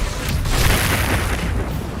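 A spell explosion from the Hogwarts Legacy video game erupts as a dense, loud boom, a sustained roaring burst of broadband rumble that holds steady for about two seconds with no talk over it.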